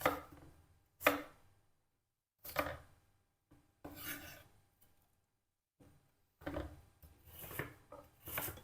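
A knife chops onion into coarse cubes on a cutting board while liver pâté is being made, in several separate bursts of close, crisp strikes with silent pauses between them.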